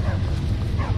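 Dog in the video game Skyrim giving brief yips and whimpering barks over a constant low background rumble, with a voice talking at times.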